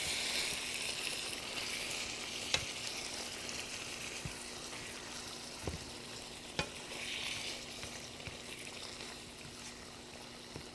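A pomfret fish pan-fries with soft onion and tomato in Bangladeshi style, giving a steady close sizzle with a few soft knocks as the fish is turned over.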